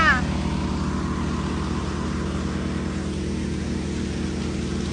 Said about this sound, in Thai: เร่งเครื่องสุดนะคะ เร่งเครื่องสุดเร่งเครื่องสุดเท่ากันนะคะ